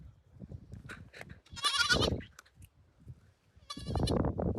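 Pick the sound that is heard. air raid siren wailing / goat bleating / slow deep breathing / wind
goat bleating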